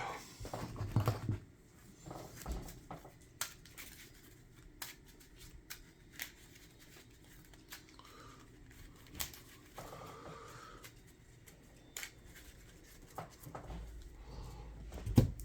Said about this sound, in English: We also had to shuffle our deck